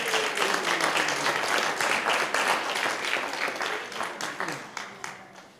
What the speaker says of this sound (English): We'll make one more round of applause.